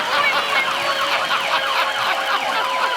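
A voice imitating an ambulance siren, a steady, continuous wailing tone that rises and falls, loud and close, with nothing else audible.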